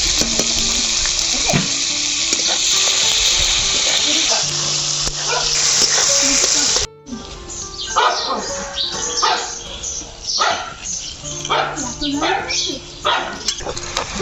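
Chopped onion frying in a pan with bay leaf, dried chilli and whole cumin sizzles in a steady hiss, then turns into intermittent crackling and stirring clatter as the pan is handled.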